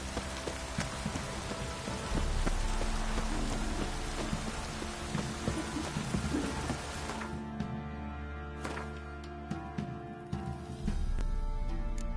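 Steady heavy rain in a video game pours down with a dense hiss and scattered drips, partly thinning out midway before the downpour surges back.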